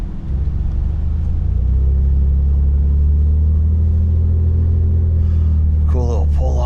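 A truck engine holds around 2,000 RPM while climbing a rough road, a loud steady low rumble filling the clip, with a voice talking briefly near the end.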